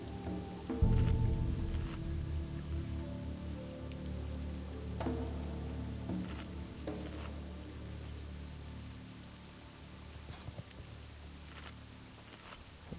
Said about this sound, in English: It's also raining now, I realize.